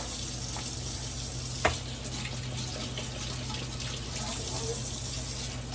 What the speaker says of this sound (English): You just want to give those a rinse.